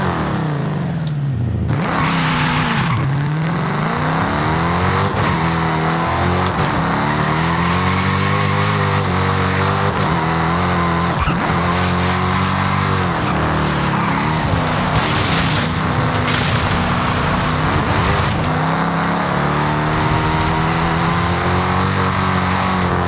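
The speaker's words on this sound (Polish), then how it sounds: "Tutaj inaczej supercharger słychać, wersja Hellcat tego chargera też ma standardowo supercharger." A supercharged Dodge Charger Hellcat in Forza Horizon 5 revs loudly, its engine pitch sweeping up and down through repeated gear changes, with tire squeal and skidding over a sustained close roar.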